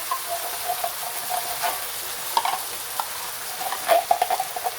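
Canned diced tomatoes and tomato sauce being stirred into a hot pan for a taco pasta casserole, with a soft steady sizzle and repeated scraping strokes of a utensil, close and fairly quiet.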